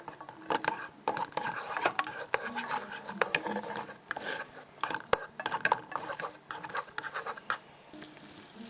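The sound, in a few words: stirring melting butter in pan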